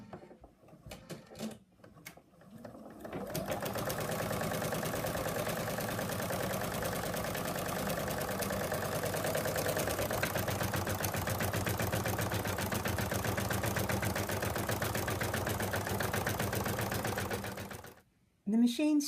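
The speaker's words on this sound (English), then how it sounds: "now we're going to stitch the outline where we're going to place the fabric" An embroidery machine stitches an outline onto stabilizer held in a hoop, a fast, steady mechanical needle rattle that runs continuously for about fifteen seconds before stopping abruptly, with a few clicks at the start and end.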